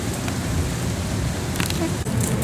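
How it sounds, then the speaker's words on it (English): Steady rain falls outdoors on a farm during a storm, a broad constant hiss with dense patter close by, without any speech. "While it rains."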